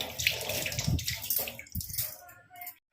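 Water poured and splashing while washing dishes and drinking-water buckets, an uneven close gush with gurgles and drips that stops abruptly near the end.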